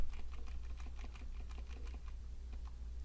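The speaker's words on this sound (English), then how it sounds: "Using my arrow keys, I'm just going to go over." Computer keyboard arrow keys are tapped in quick, soft, irregular clicks close to the microphone over a low steady hum, with no talking.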